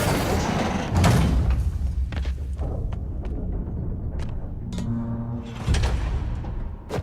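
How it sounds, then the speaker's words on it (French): A hidden door opens in a video game, a heavy sliding rumble with thuds and a grinding mechanical drone, loud and close, with brief clanks scattered through. "Une porte cachée."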